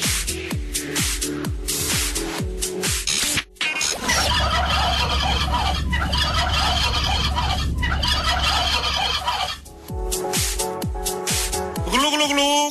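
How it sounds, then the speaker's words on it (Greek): A played recording of turkeys gobbling, heard loud and close, with bursts of rapid gobbling calls over a dense background of flock noise throughout. "Όπως ακούσατε τις γαλοπούλες μας"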